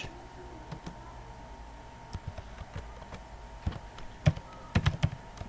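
Someone types JavaScript code on a computer keyboard, with quiet scattered key clicks that build into a few sharper clustered taps near the end, close and alone.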